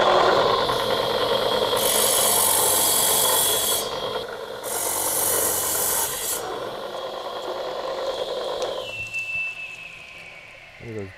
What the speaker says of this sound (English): so I use the rub stone to dress up the blade here